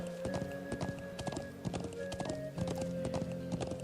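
Horse hooves clip-clop at a steady trot while riding in the Trails of Cold Steel video game, a continuous rhythmic clatter of close, moderately loud hoofbeats over a soft game music backdrop.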